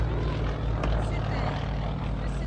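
A Yak-52 aerobatic plane with a radial engine and propeller drones steadily and loudly throughout, a continuous rough engine roar with an even low throb.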